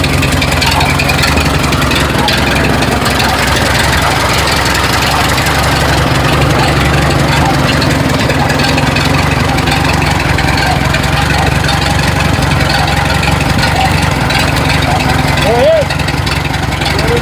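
A Ford Model T engine idles loud and close after startup, a constant rough, knocking chug that holds steady, with faint voices beneath it.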